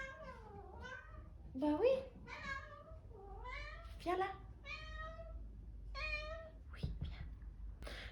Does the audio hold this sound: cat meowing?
yes